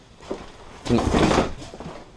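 An old door in an abandoned house being handled, with a soft knock followed by a louder scraping, rattling movement that tapers off, close by.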